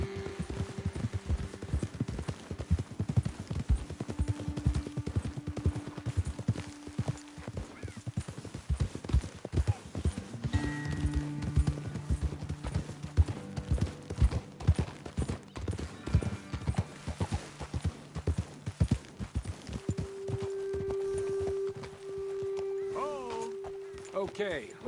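Horses in the Red Dead Redemption 2 video game clip-clop at a steady walking pace on a trail for the whole stretch. Soft sustained tones of game music run underneath.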